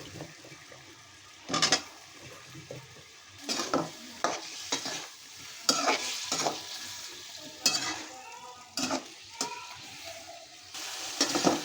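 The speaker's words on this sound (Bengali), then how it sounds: "এখন আমি আলুটা দিয়ে আরও পাঁচ মিনিট ভালো করে কষিয়ে নেব" Potatoes being sautéed in a spice masala, stirred in a pan for a Bengali bean curry. Scraping stir strokes come in irregular bursts over a low background sizzle, close and fairly quiet.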